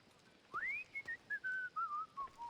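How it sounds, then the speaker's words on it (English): A video game character whistles a meandering tune in short, clear phrases, a lone gliding melody over faint background ambience with no talking. "Alright, you're just whistling."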